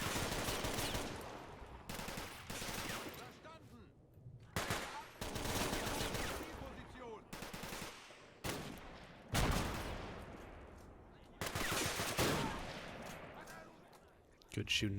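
Rapid gunfire from a World War II strategy video game, with bursts of rifle and machine-gun fire crackling in quick succession and short pauses between volleys, loud and close throughout.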